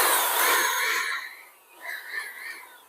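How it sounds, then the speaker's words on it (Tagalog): An air blower hisses loudly in close bursts as it dries wet parts of a Phoenix PCP 4 compact airgun, surging, dipping, then rising again, with no talking. "dinadry ko using blower"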